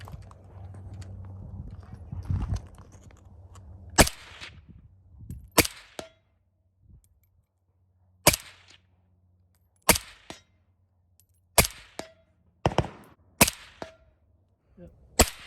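A suppressed Galil Ace short-barrel rifle with a KNS piston fires supersonic rounds with the suppressor's gas setting fully open, giving about eight sharp, loud, separate cracks at irregular intervals, with a faint voice and low background noise at the start.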